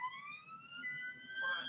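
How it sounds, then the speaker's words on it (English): A police car siren wails in a rising electronic tone, moderately near, over faint road noise behind it. "I've activated blue lights and sirens, and it's not stopped."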